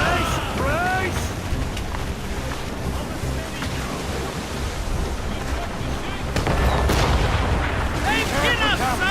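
Ship cannons booming in Assassin's Creed Rogue amid a naval battle at sea, with crashing waves and roaring wind throughout, shouted voices, and heavier blasts near the end.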